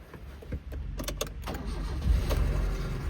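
A 2010 Hyundai Verna VTVT petrol car with a 5-speed manual gearbox starting up: a low, steady engine rumble with a few sharp clicks and mechanical transients, fairly close and continuous for about three seconds.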